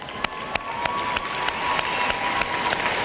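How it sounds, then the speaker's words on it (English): A dog show judge's single pair of hands claps in a slow, steady rhythm, crisp and close, over a continuous crowd murmur and a faint steady tone at the Westminster Dog Show group judging. "Hear her clapping for her winners, for her entries in her group."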